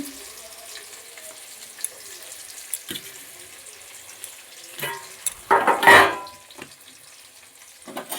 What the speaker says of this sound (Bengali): তেল আমার গরম হয়ে গেছে এবার দিয়ে দিচ্ছি পেঁয়াজ দিচ্ছি রসুন